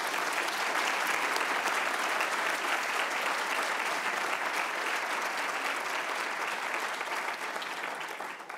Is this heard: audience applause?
yes